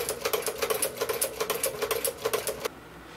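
A Singer 29-4 sewing machine stitching a seam, a fast steady rhythmic clatter of the needle mechanism, close and fairly loud, stopping abruptly near the end and leaving a quiet hum.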